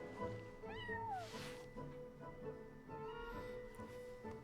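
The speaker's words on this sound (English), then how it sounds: "Aw, that's a good kitty, Sir Pouncelot." A cat named Sir Pouncelot meows during a cutscene in the video game Genshin Impact, giving a few drawn-out, rising and falling meows, faint and close, over soft background music.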